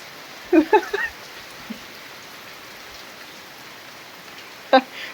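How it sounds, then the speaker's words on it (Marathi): Steady rain hisses throughout, with a few brief nearby knocks and clatters rising above it. "पाऊस बघा काय सुरुवात झाली पावसाची"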